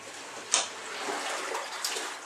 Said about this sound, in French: Je viens de tirer la chasse d'eau.